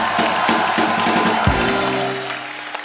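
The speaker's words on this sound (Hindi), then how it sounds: "तीनों के लिए जोरदार तालियां" A studio audience applauds and cheers for three arriving guests, one of them director Anurag Kashyap, with steady dense clapping and crowd noise that fades toward the end, while a voice briefly speaks over it.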